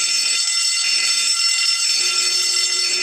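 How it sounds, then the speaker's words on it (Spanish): A fire alarm rings continuously, a loud, steady, high-pitched electronic bell tone that fills the clip without pause, with no speech over it. "Oye, es la alarma de incendio."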